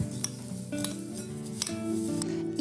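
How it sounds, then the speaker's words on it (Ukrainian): A dry mixture of nuts and seeds for homemade kozinaki stirred in a bowl, with close clinking and scraping of a spoon against the dish for a few seconds. "Нашу суміш ми перемішуємо"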